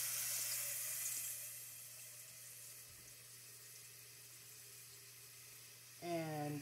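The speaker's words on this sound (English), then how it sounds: "just take my little bowl and just fill it with some water here" Water from a tap pours into a small bowl as a soft, hissing stream at the start, then fades into quiet room tone, with a brief clatter near the end.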